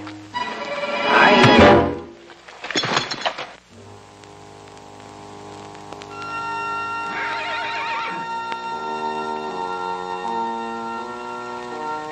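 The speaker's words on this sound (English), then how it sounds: "The horses are loose. Yeah, and they're coming this way, Hoppy." Loose horses in a 1935 Western let out a loud whinny up close, followed by a second neigh and thudding hoofbeats, then orchestral music carries on beneath a fainter whinny.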